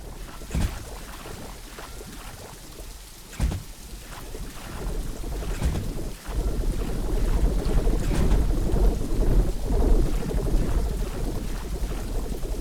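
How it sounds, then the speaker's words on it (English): Steady rain hisses and rushes in The Riftbreaker, with a few dull thumps of thunder standing out against the continuous wash. "This rain is harmless to our base, but it decreases solar panel efficiency until it stops."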